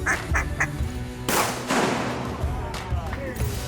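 Several ducks quack repeatedly and close by during a duck hunt, a busy overlapping chorus with a sharp splash-like burst in the middle.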